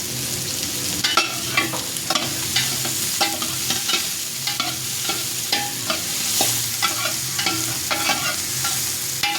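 Onion sautéing in a pan for Bicol Express, with a constant close frying hiss and quick, regular scrapes and taps of a spatula stirring through the whole stretch.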